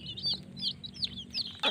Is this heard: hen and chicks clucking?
yes